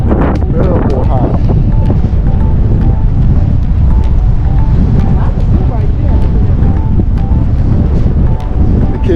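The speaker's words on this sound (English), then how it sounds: "Thank God for the wind." Strong wind blows steadily over the microphone at El Morro fort in San Juan, Puerto Rico. It makes a loud, continuous buffeting roar through the whole stretch, with faint tones and background sounds underneath.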